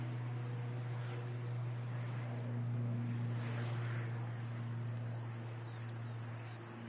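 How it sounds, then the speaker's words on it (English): An aircraft arriving at Manchester Airport, a distant low steady engine drone with droning tones that swells slightly in the middle and fades, faint and continuous. "Another arrival coming in as well."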